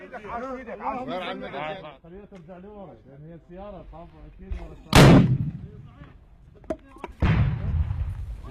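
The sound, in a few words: mortar fire hitting Islamic State positions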